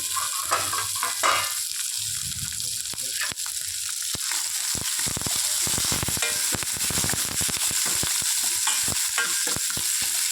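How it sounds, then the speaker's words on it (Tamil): Chopped onions sauté in a hot frying pan for a Tamil kolluparuppu kadaiyal, with a steady close sizzle broken by irregular crackles and the scrape of stirring. "வெங்காயம் எல்லாத்தையும் போட்டுடலாங்க. போட்டு ஒரு வணக்கி வச்சுக்கலாம்."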